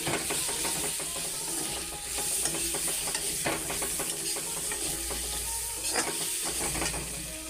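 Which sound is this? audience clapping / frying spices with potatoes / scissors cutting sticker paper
frying spices with potatoes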